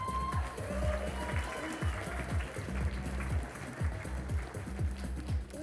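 Audience applause for an award winner at a Bloc Buster 2018 prize ceremony, a steady wash of clapping from a crowd that carries on throughout, with dense rhythmic banging underneath.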